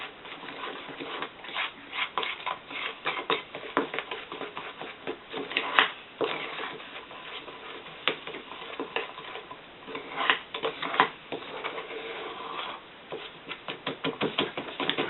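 Blueberry cake batter is mixed in a cup with steady, quiet scraping and tapping strokes repeating around the sides, close up and soft, with occasional louder clinks.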